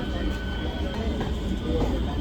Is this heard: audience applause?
no